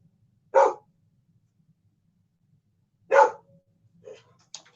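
A dog barks sharply twice with a long pause between, followed by a few softer yelps, all fairly close against a quiet background, just after a thunderclap.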